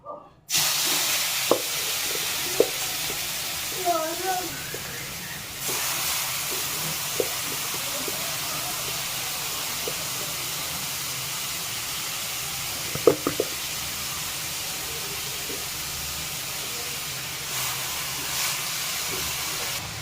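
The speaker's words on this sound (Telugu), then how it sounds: "క్యారెట్ బాగా ఫ్రై అవుతుంది" Carrots fry in a pan for carrot halwa with a steady, close sizzling hiss that runs unbroken, plus a few faint clinks and scrapes.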